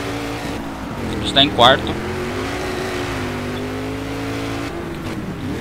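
A large Dodge Ram truck revs and drones steadily in a Dirt 2 rally race, its engine a continuous low hum throughout, with a voice speaking briefly over it.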